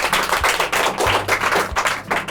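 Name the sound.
children clapping loudly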